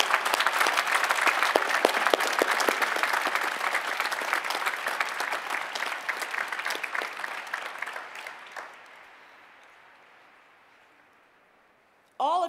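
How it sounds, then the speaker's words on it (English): Graduation ceremony crowd for the class of 2014 applauding steadily in a large open-air setting, dense sustained clapping that gradually thins and fades out before a brief burst of sound at the end. "Please join me in a round of applause for this accomplished class of"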